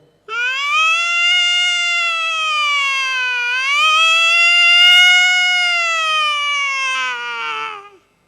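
A person's voice imitates the siren of a police jeep escorting ministers, a single loud, close wail held for about eight seconds that slowly rises, dips and swells again before cutting off.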